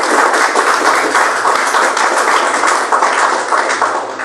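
A church congregation claps together for Jesus, a loud, sustained, even wash of many hands under a steady hum, with no voices rising above it.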